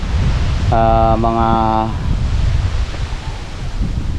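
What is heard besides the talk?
wind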